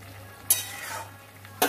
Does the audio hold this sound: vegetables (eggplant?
yes